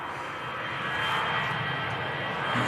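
An EasyJet jet airliner at Manchester Airport gives a steady, broad engine roar that holds close and fairly loud for the whole stretch, swelling slightly toward the end, with no voices.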